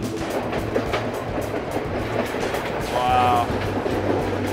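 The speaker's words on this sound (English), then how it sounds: "going around these corners because you can see the whole train" Train rolling through Sri Lanka's hill tea country, a steady rumbling clickety-clack with a brief higher squeal near the end, heard from inside with people talking over it.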